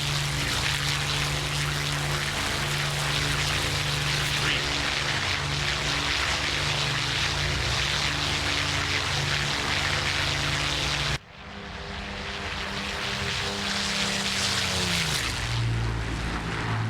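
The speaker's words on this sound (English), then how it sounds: "Should be here in our Spitfire escorts taking off here momentarily." Spitfire escort fighters taking off in a flight combat game, a steady loud drone of piston engines and propellers that cuts abruptly partway through, then another engine swelling and shifting pitch as it climbs.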